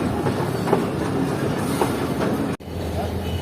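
Moving express passenger train rattling along the railway, a continuous dense rumble with faint rhythmic clacks, interrupted by a brief sharp dropout near the end.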